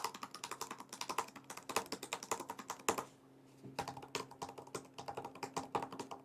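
Fingers type quickly on the keyboard of a Samsung Galaxy Book5 Pro laptop, a dense run of crisp close key taps that pauses for a moment and then carries on at an even pace.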